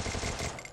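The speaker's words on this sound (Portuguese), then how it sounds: "Tiro." A rapid burst of gunfire in a shooter video game, dense and continuous for under a second, with no voices.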